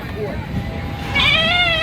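A goat or sheep gives a wavering bleat near the end, close and fairly loud, at a petting farm, over a steady crowd murmur and outdoor noise.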